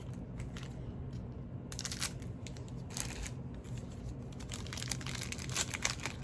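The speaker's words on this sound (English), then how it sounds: "It's just so easy using the scissors." Scissors snipping open 2005 Topps Football trading card packs, a series of crisp cuts and crinkling foil wrapper sounds, close and quiet, in irregular bursts.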